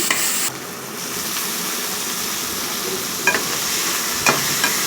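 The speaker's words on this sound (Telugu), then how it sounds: "అల్లం వెల్లుల్లి పేస్ట్ వేసి మంచిగా కలుపుకోవాలి" Masala with ginger garlic paste stirred in a pan for a biryani, a steady close frying hiss with a couple of sharp scrapes of the spoon against the pan.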